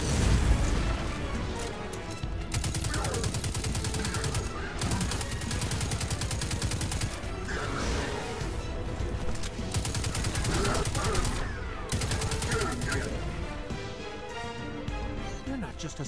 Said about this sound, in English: My god, the sound of the sniper is awesome.